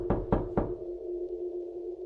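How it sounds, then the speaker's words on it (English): Three quick, solid knocks land on a car door or window in a steady rhythm, followed by a faint lingering hum in an otherwise quiet space. "Then came the first knock."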